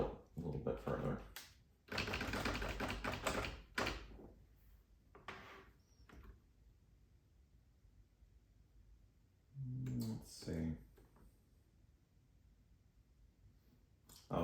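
A 1946 Smith Corona Clipper manual typewriter clatters in dense bursts of keystrokes, with pauses, a few isolated clicks and a brief spoken remark between runs.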